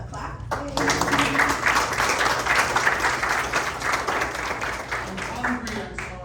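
A crowd at a Hispanic leaders awards event in Escondido claps for a District 3 council member, steady applause over about six seconds with voices mixed in.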